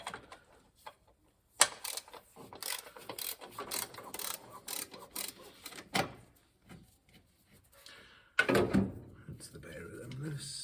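A ratchet loosens the 5/8 nuts holding down the rocker cover on an MGB engine, giving quiet clicking bursts and sharp mechanical knocks amid faint workshop handling sounds.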